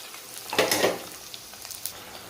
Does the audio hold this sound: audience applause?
no